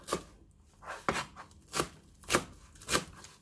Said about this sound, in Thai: ค่ะเราก็จะหั่นรวมกันไปเลย